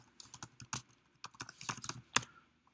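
Rapid bursts of computer keyboard typing, uneven clusters of crisp keystrokes with short pauses, close and alone.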